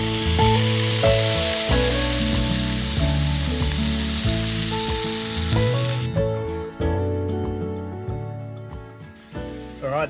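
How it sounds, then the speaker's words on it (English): Burgers and potato chips frying in a skillet over a lakeside campfire, a steady close sizzle and crackle running throughout with occasional clinks, no talking. "So the burgers and chips there are sizzling away in the skillet over the fire."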